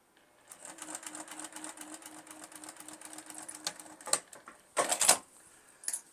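A sewing machine runs steadily at a 3 stitch length, stitching a straight topstitched seam on a fabric book sleeve, with a continuous motor hum and rapid needle clatter, then a few louder clunks and handling knocks near the end.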